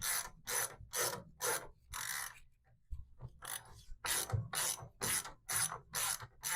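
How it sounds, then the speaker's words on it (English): A compression assembly tool is ratcheted to tighten a WP XACT closed fork cartridge, giving a close, rhythmic series of about a dozen rasping clicking strokes with a brief pause partway through. "So let's use our compression assembly tool, line it up in the proper spot"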